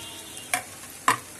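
Spices and ginger garlic paste stirred and fried in a pan for chickpea chole, two short scraping stirs standing out over a low, steady background sizzle.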